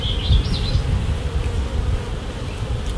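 Dense, close buzzing of honey bees around an open hive during an inspection in an apiary, a steady hum with a few higher-pitched passing drones, no voices.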